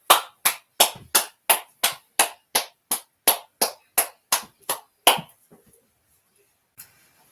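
A group claps in a steady, evenly spaced rhythm of about fourteen sharp claps, then stops, followed by a couple of faint stray taps in a quiet room.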